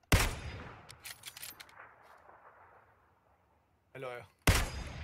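Gunfire in the video game PUBG: a loud burst of shots, then scattered rapid fire fading into quiet, a brief voice, and another sharp blast at the end.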